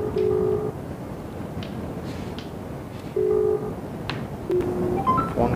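A WhatsApp phone call rings out in repeated electronic tone bursts with short gaps between them, loud and close, and a few brief clicks at the end.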